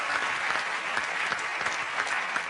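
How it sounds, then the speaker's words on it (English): Studio audience applause on a television comedy game show, loud, dense and continuous clapping throughout with no talk over it. "Give her a round of applause"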